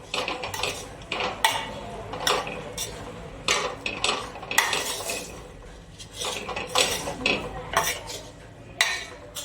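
A spoon scrapes and clinks around a metal pot while Kathiyavadi lafasi is stirred, giving repeated close, bright scraping strokes in an uneven rhythm with no talking.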